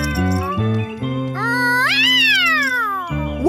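Cartoon cats meow and caterwaul in a rising, sliding chorus of several voices, loud and close, with a brief jingling tinkle and a steady musical drone beneath.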